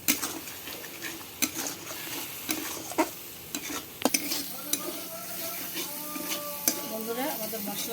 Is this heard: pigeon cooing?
no